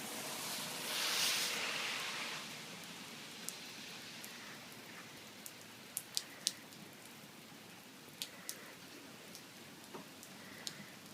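Heavy rain pours onto a flooding street, a dense steady hiss with scattered sharper drip taps close by.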